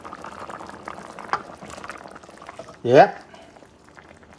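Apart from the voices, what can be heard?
pumpkin and pork stew boiling in covered pot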